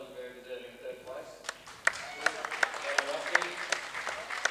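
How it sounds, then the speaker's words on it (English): A small audience gives scattered, steady hand claps for the third-place finisher at an 8-ball billiards tournament final. The clapping starts after a voice and builds into a sparse, evenly paced round. "can we give a round of applause for Rusty Wheeler, who was very deserving third place"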